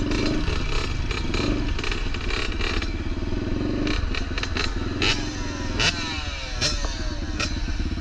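A Yamaha YZ 65 two-stroke dirt bike is ridden through a lap. Its engine runs continuously and loudly, with rising and falling revs and clattering mechanical noise and no voices.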